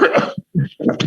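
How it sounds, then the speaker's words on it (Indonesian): A single sharp cough bursts out between stretches of speech, near and loud, with talking continuing before and after it. "Saya harus minum dulu nih, batuk kayak gini."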